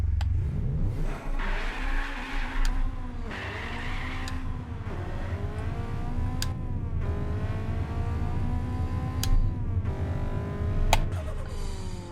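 A drag car on four new tires drives close by, its engine droning and revving up through rising gear pulls with brief dips between shifts, loud and continuous throughout.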